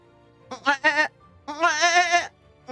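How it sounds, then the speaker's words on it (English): A goat scream sound effect plays during a game stream, with two short bleats followed by one long wavering scream, loud and close with no talk over it. "All right, there's the goat scream."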